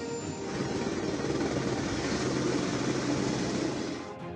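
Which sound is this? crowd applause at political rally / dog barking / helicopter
helicopter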